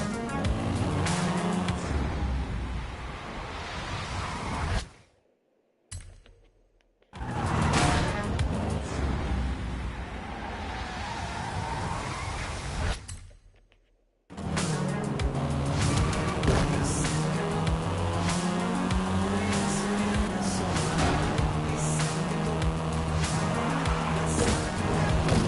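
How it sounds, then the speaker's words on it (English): A Volkswagen Golf R races in a Forza driving game. Its engine note climbs and falls steadily with tire squeal, and the sound cuts out briefly twice before the revving resumes. "This version is the Volkswagen Golf R"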